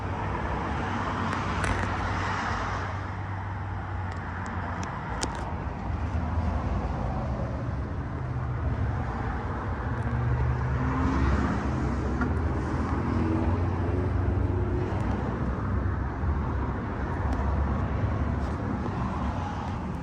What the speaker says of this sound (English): Alrighty, so this is our Unimog. This thing's running great.